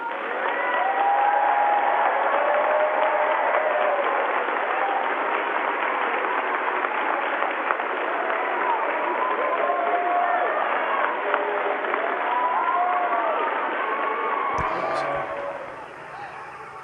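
Sustained applause from a large crowd of scouts, dense and steady for about fifteen seconds before fading, with faint voices mixed in. The sound is narrow and distant, as if heard over a phone line.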